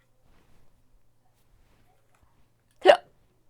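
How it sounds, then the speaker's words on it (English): A single sharp hiccup, close and loud, breaks an otherwise near-silent indoor moment, followed by a faint trailing click. "Oh no, you've got hiccups and burps."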